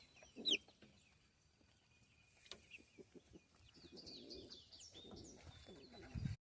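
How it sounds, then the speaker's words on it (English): A rooster in a backyard coop with young chickens gives soft clucks and coos at low level, with a sharp brief call near the start and other birds faintly in the background. "Yeah, you're a rooster."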